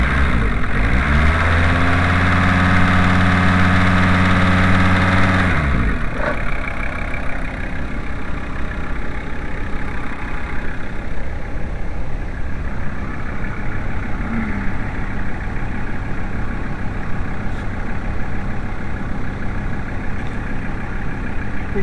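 A VW T4 Eurovan 2.4L diesel runs on a diesel purge with the fuel filter disconnected, revving briefly before settling into a steady, rough, close idle that continues for a long stretch without talk.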